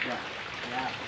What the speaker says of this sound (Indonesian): Akibat hujan terlalu panjang ini hujan dari pagi sampai sekarang belum reda-reda.